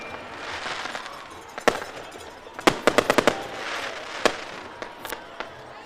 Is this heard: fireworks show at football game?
yes